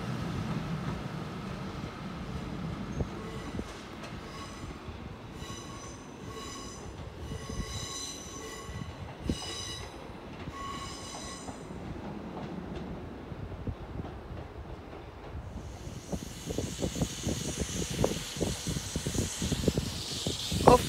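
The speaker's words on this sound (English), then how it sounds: "Off goes the pendolino to Edinburgh." Pendolino express train pulling out for Edinburgh, a steady rolling rumble with tonal whine and wheel squeal, swelling into louder hiss and rattling as it draws away, no talk.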